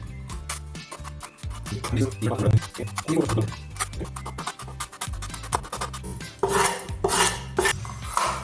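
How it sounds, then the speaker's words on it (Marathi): Green chillies being finely chopped with a knife for a cabbage dish, quick repeated blade taps on a board with metallic clinks, under steady talking close by. "तीन मिरच्या घेऊयात आणि त्याला बारीक कटिंग करून घेऊया"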